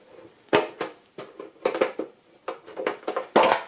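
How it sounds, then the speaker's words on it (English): The lid of a boxed Sutton Type 2 Sulzer model comes off, a series of close, sharp cardboard and packaging clicks, taps and rustles in an irregular rhythm, with nobody speaking. "I can get the lid off easy."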